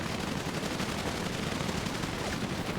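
Rapid bursts of gunfire from a video game battle in a pre-war match, a dense, continuous barrage of shots filling the whole stretch with no pauses.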